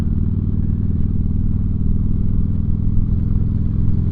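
A motorcycle engine runs close by with a loud, steady low rumble and a faint clattering texture that holds even throughout.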